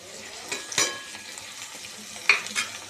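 Tomatoes are stirred into onions frying in a pan for pav bhaji, giving a quiet sizzle with two sharp scrapes and clinks of the spoon against the pan.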